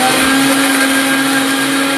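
A mixer grinder jar whirs steadily at close range, grinding jackfruit into a fine dosa batter paste with a constant high motor drone throughout.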